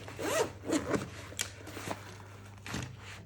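A zipper is pulled shut on the main pocket of an everyday-carry bag, giving several close, raspy zipping strokes with small pauses and fabric rustle between them, against a low steady hum.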